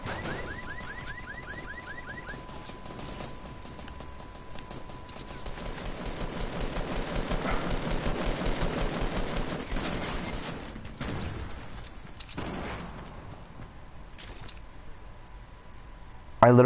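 Rapid bursts of automatic gunfire in a shooter video game rattle out in a long sustained stretch, mixed with game tones and effects, then give way to scattered single shots and thuds.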